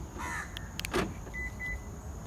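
A Suzuki MR Wagon locking or unlocking via keyless remote gives a couple of short electronic chirps and a brief mechanical clunk from the door locks, quiet against a faint outdoor background.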